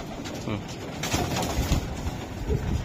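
A female Pakistani teddy pigeon coos in low, soft bursts among other pigeons in a loft, mixed with a dense murmur of nearby birds while a person talks.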